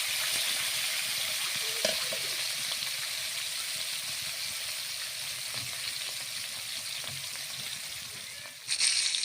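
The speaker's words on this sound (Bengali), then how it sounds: "মাছগুলোকে ভালো করে ভেজে নিচ্ছি" Fish frying in hot oil, a steady bright sizzle that holds throughout with occasional small pops, close by, ending in a brief louder burst of hiss near the end.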